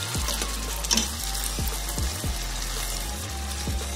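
Ground garlic, ginger and tomato masala sizzling in hot oil for lauki kofta curry, a steady close frying hiss with a few soft stirring knocks.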